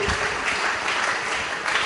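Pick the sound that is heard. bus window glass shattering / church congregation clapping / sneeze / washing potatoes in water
church congregation clapping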